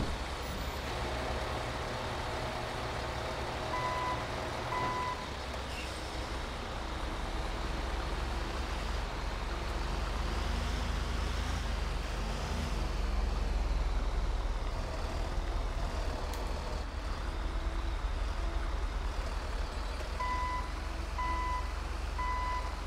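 A rollback tow truck in the GTA 5 video game loads up with a steady diesel rumble, while intermittent reversing beeps sound at the start and again near the end.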